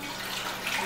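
Tap water runs steadily into a pot, filling it for homemade hand soap made with four quarts of water, a brief close hissing rush with no voices.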